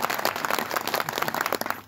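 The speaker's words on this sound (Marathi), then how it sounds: "एकदा जोरदार टाळ्या वाजवा त्यासाठी." Audience at a Marathi kirtan claps together, a dense patter of hands sustained for a couple of seconds at moderate distance with no talk over it.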